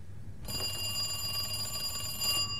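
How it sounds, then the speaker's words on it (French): Telephone ringing in a drama scene, a bright electronic trill starting abruptly and holding at moderate level for about two seconds before cutting off, with faint room hum beneath. "Le téléphone sonne."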